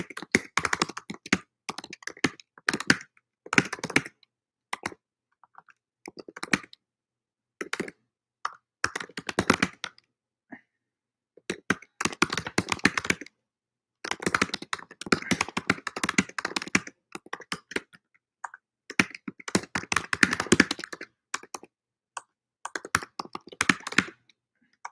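Computer keyboard typing in irregular bursts of quick clicking keystrokes, fairly close and moderately loud, with short pauses between phrases and no talking.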